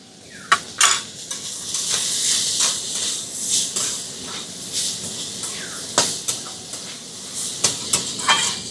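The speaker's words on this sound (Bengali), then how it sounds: "সবজিগুলোকে আমি 2-3 মিনিট মতন একটু নাড়াচাড়া করে নিয়েছি" Vegetables are stirred with salt in a pan for a breakfast kachori filling, giving repeated utensil scrapes and clinks against the metal over a soft hiss, close and fairly quiet, with no talking.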